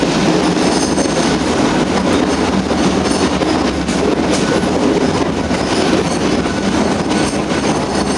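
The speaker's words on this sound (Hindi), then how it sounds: "टनल से निकल रहे हैं।" Ooty mountain railway train emerging from a short tunnel, a dense, steady rumble of wheels and carriages close by, with faint rail squeal and clatter running unbroken throughout.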